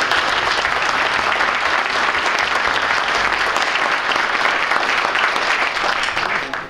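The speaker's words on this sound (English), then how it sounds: "a round of applause for us" Dense, sustained applause from a large audience at a community celebration event, loud and continuous throughout before tapering slightly at the end.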